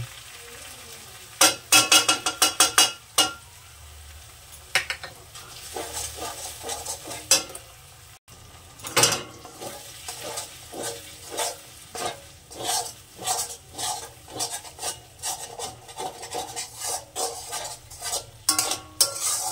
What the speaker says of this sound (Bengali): আবারও একটু মশলাটা কষে নেব। গ্যাসটা ছোট করে দিয়েছি।